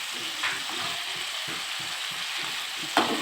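Spices for a chicken curry fry in a pan, a low continuous sizzle with rhythmic scraping stir strokes and a sharper clink near the end, no talking.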